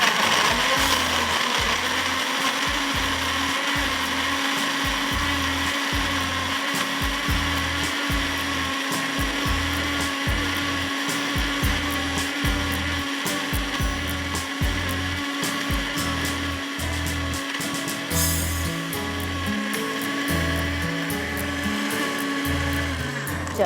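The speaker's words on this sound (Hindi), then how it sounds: "यहाँ सुपर एशिया का ब्लेंडर है जो बहुत फास्ट चलता है" A Super Asia blender running at high speed, a loud continuous motor whine with a pulsing churn of contents in the jar, steady and close for over twenty seconds with no talk.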